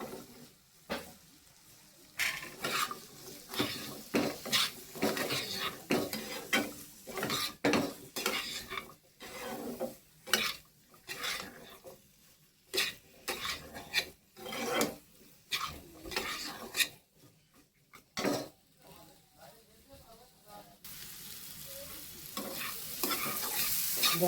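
Boiled jackfruit seeds are stirred and fried in a pan, with a spatula scraping and clattering in irregular bursts over a soft sizzle, close and fairly quiet.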